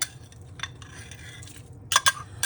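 A spoon stirs tomato soup in a pot in a home kitchen, giving soft scraping and light clinks, with a few sharper metallic taps near the end.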